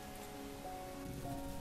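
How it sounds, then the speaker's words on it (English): Steady rain drums on a car during a downpour, a dense continuous patter of drops with a faint hum underneath, moderately quiet and even throughout with no voices. "the rain's just not letting up now."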